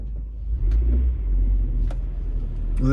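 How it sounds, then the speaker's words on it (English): Traffic passing along a city street at 22nd and Berks, a deep, continuous engine rumble that swells as vehicles go by. A few short sharper sounds cut through, and nobody speaks. "We'll let this traffic go by because these people are rushing by me."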